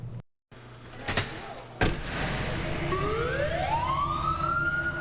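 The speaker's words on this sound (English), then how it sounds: "how intimidating loud sirens and ambulances can be" An ambulance siren rises steadily in pitch and holds a wailing tone, following a couple of sharp door slams in the first seconds, all at moderate distance.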